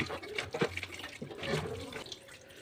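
Water runs from a tap while fish is rinsed under it, a splashing, uneven flow with soft sloshes and drips nearby.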